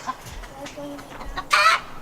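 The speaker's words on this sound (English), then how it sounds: "the chickens are kind of going nuts right now." Chickens cluck softly in short bursts nearby, followed by one louder, higher squawk near the end.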